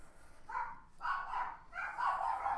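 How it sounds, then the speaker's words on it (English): Several dogs bark and yowl in the background of a quiet indoor room, three muffled drawn-out bursts heard faintly at a distance. "if you can hear in the background, I've got some dogs."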